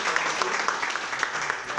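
A team clapping together at a show, a brief burst of steady applause from a small group at moderate volume with faint talk beneath.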